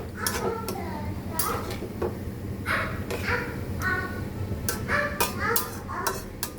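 Metal clatters and clinks as a lid goes onto a pot of fish curry after stirring, several sharp knocks and scrapes scattered over a steady background hum.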